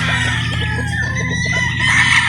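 A gray straight-comb rooster crows loudly and close by, a drawn-out cock-a-doodle-doo with some clucking around it.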